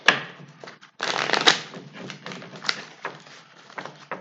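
A deck of tarot cards is shuffled by hand nearby, a brief riffle followed by a longer run of rapid papery flutters and slaps in uneven bursts.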